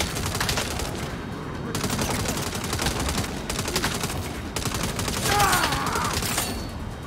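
Rapid automatic gunfire from the video game Saints Row, continuous bursts with brief gaps, loud and close throughout with a little background voice.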